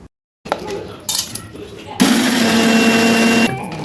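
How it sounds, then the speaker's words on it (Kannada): A kitchen mixer grinder whirs on dry chillies, salt and grated dry coconut, starting with clinks and short bursts before a loud steady motor hum for over a second, then cutting off, close up. "ಒಣ ಕೊಬ್ಬರಿನ ಹಾಕಿ ಮಿಕ್ಸಿ ಮಾಡ್ಕೊಳ್ಳೋಣ"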